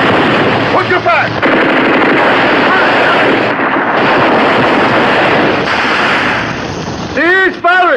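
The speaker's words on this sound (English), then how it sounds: "Oh, cease firing, not keep firing." Gunfire in a 1971 film scene, heard as sustained loud bursts of rapid machine-gun and rifle shots mixed with wind-like rushing noise, with brief voices and ringing near the end.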